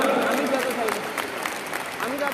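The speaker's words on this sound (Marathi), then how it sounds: "टाळ्यांचा मोठा कडकडाट करा" A crowd applauds continuously at the inauguration of a national women's parliament, a steady wash of clapping with no clear start or stop, fairly distant and moderate in level.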